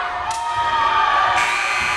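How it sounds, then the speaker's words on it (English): A loud, sustained electronic game-ending buzzer drones steadily over a noisy crowd at a middle school basketball championship, cheers and shouts rising around it. "That's a Somerville buzzer."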